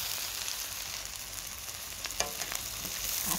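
Tofu, just flipped, sizzles and crackles steadily in a frying pan. The hiss is even and close, with a few sharper pops.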